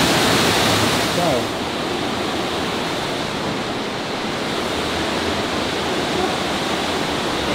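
Water rushes loudly and steadily inside an abandoned cotton mill, a dense, continuous roar filling the space with no break from start to finish.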